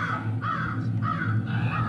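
Crows caw in three loud, close, hoarse calls spaced about half a second apart, with steady low background noise underneath.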